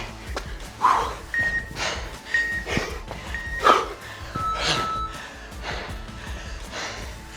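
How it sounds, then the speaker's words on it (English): After a bench press and burpee workout, a man breathes heavily and close, with forceful gasps and snorting exhales in uneven bursts, while faint beeps sound in the background. "Hear that breathing?"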